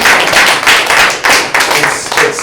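A small group applauding a speaker at an office meeting: a short burst of close, fairly loud hand claps that comes in uneven waves and then fades out.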